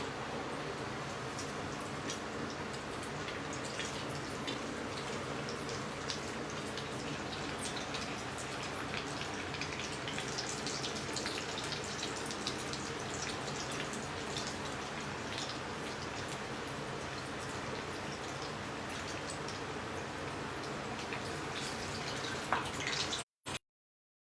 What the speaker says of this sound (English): We'll fry it till a little bit more golden brown.